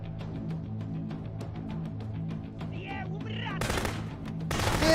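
Gunfire in a war film, bursts of rapid shots and sharp cracks over a droning musical score, growing louder and denser toward the end.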